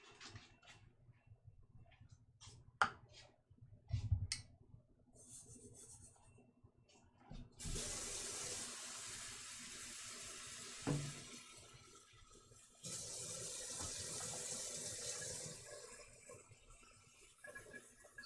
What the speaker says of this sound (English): So I'm going to put 2 and a touch more water in there with them.